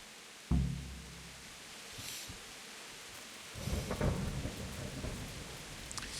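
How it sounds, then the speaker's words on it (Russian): A thunderstorm in the video game Kingdom Come: Deliverance brings a sharp thunderclap early, then steady rain hiss with rolling rumbles building later. "Почему штормит уже сутки целые?"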